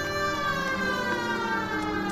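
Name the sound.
emergency vehicle siren switched on, from a video game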